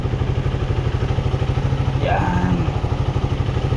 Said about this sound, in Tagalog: itong malaki ko na motor guys, inaandar ko para mag-charge yung battery